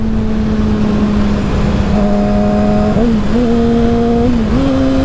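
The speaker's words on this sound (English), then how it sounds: "See, perfect rev matches" A Yamaha R6 motorcycle engine drones steadily up close, then blips its revs in quick jumps as it downshifts, each step up followed by a settling tone over loud wind rush, with no talking.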